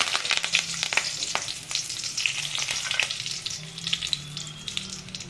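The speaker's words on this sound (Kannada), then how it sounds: "ಎಣ್ಣೆ ಬಿಸಾದ ಮೇಲೆ ಸಾಸಿವೆ ಹಾಕೋಣ ಈಗ ಕರ್ಬೇವು" Mustard seeds and curry leaves sizzle and spit in hot cooking oil in a pan, a continuous crackling fry with sharp pops and a few stirring clinks, close and steady throughout with no voices.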